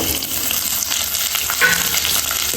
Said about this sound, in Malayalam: ഇട്ടിട്ട് കുറച്ച് വഴറ്റി കൊടുക്കാം.